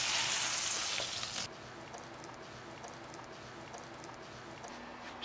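Porterhouse steak sizzling on a Pit Barrel Cooker, a bright loud crackling sizzle for the first second and a half, then a quieter, low steady frying hiss for the rest.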